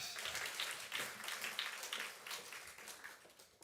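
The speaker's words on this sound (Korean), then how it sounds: "박수 쳐주세요." Congregation clapping during a Thursday dawn worship service in a church, a faint, distant patter of hands with a few sharper individual claps standing out, gradually thinning toward the end.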